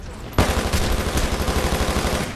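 Rapid automatic gunfire in the Titanfall shooter on a hardpoint domination match, loud and close, starting abruptly and rattling on as a continuous stream of shots.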